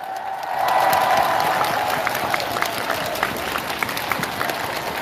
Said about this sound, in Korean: 우리 뒤쪽에 계시는 분들은 잘 보이시면 박수 한번 보내주세요